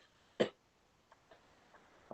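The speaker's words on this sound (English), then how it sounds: "Laughs and immediately begins to cough again." A person gives a single short, sharp cough, followed by a few faint, small throat sounds in an otherwise quiet room.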